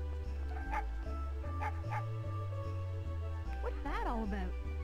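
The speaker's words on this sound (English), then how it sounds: "It's a dog!" Dog barking in the video game Megaman 64, a series of short yips and barks over steady game music, ending in a rising and falling whimper.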